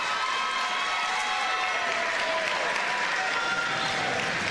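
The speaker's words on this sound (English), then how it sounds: "That's the Grammar fans cheering." Grammar basketball fans cheering and applauding at a college game against Citadel, a dense, steady wash of crowd noise filling the arena for several seconds without a break.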